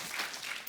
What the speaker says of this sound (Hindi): और जोरदार तालियां इतनी सुपर डुपर हिट फिल्म देने के लिए।